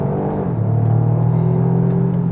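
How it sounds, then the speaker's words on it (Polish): Exhaust note of a Toyota GR Yaris: a deep, loud engine rumble that swells and rises in pitch after a brief moment, then holds a steady drone close by, with no speech. "Cały dźwięk dochodzi z układu wydechowego"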